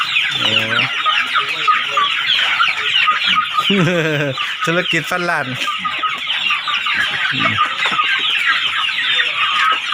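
Pradu black-tailed chickens cluck and squawk repeatedly in a busy, close flock, a steady high chatter with bursts of louder calls throughout; someone speaks now and then over the birds.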